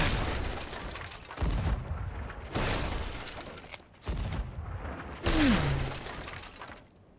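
Cannon fire in the Sea of Thieves pirate ship game: four heavy booms spaced a second or two apart, each with a rushing tail, fairly loud with no talk over them.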